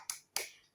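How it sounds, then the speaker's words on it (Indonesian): Two sharp, isolated hand claps from a group of mothers doing a 'tepuk hebat' clapping chant, spaced about a quarter second apart, crisp and fairly faint, each ringing briefly before fading, with no voices. "Kita beri tepuk hebat bersama-sama ya."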